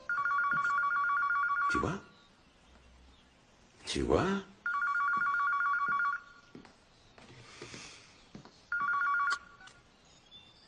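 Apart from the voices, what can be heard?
telephone ringing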